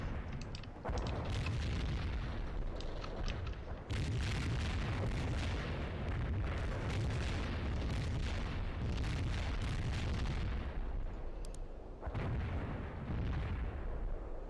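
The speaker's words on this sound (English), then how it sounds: "Mortar battery launched at the coordinates." Mortar strike explosions in the World in Conflict strategy game. Dense, heavy booms and rumbling blasts follow one another almost without pause, loud and close, with a couple of brief gaps between bursts.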